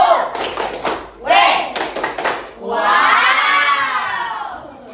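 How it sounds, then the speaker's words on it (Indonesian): A primary school class performs a rhythmic clapping chant, bursts of group claps alternating with children shouting letters in unison, ending in a long drawn-out cheer from the whole room, loud and close. "kita kasih tepuk wow, tepuk wow, W, O, W,"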